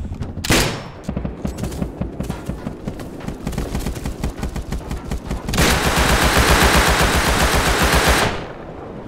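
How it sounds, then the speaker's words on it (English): Video game gunfire from a map-wiped survival server: rapid automatic bursts rattle close and loud, then give way to a dense, sustained roar of fire before cutting off near the end. "Look at the fucking shots"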